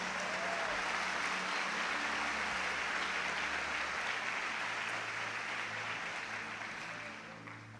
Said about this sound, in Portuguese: Você pode dizer aleluia, você pode aplaudir a Jesus.